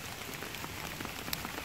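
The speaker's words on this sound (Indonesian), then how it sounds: "Ini tiba-tiba di hutan, tiba-tiba mendung terus hujan deras guys." Heavy rain pours down in a forest on Mount Penanggungan, a dense steady patter of drops striking leaves and surfaces all around, loud and continuous with no voices.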